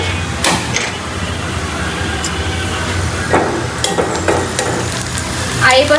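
Fenugreek seeds sizzle in hot oil left from frying hilsa fish, a steady close crackle broken by a few clattering stirs of a utensil in the pan.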